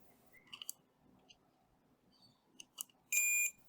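Probes click against the pins of a Game Boy cartridge, then a multimeter lets out one short, loud continuity beep near the end.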